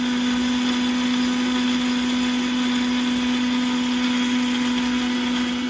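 Electric mixer beating chocolate and butter for a chocolate mousse, a steady, loud continuous motor whine and whir running throughout without variation or speech.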